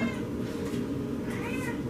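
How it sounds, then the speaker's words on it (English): A cat meows indoors during a Thunderstone Quest board game session, one drawn-out, plaintive meow with a rising and falling tone, fairly close and clear, with faint room noise beneath. "If you hear a cat, it's because she's ornery."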